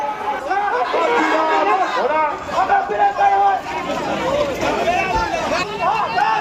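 Crowd commotion from a Birbhum protest in the street, many raised voices shouting and chattering together in a loud, continuous babble.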